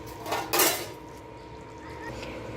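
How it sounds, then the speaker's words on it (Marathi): A metal lid set onto a cooking pot of brinjal (eggplant) curry, a short clanking contact close by, followed by a quiet steady background of gentle cooking. "ढाकण ठेवते पाच मिनटं"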